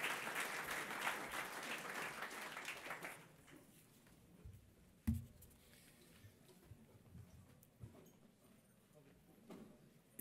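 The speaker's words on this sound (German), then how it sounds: "Applaus" Conference audience applauding at an IT security event in a university hall, loud steady clapping for about three seconds that then breaks off, leaving scattered claps and room noise.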